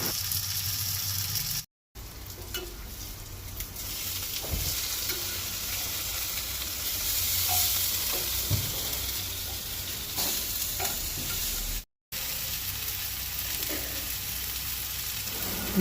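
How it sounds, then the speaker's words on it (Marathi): Pomfret fish frying in hot oil in a pan, a steady, close crackling sizzle that runs throughout, with occasional soft knocks and turning sounds as the fish is flipped, with no voices. "अशें करून दोनूय सायडींनी बरी चरचरीत भाजून घेवंक जाय ती."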